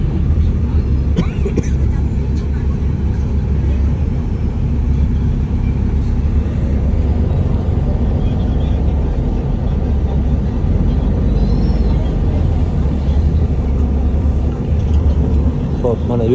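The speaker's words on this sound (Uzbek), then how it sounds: "Avtobus katta yo'lga chiqmoqchi." A bus pulls out onto a main road in Makkah, its engine a steady loud rumble with road noise throughout, passing traffic now and then, and people talking faintly inside.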